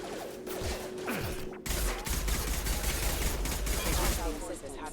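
Security turrets in the video game Mass Effect fire dense, continuous gunfire, with loud rapid bursts mixed with crashes and mechanical game effects, and voices can be heard partly underneath.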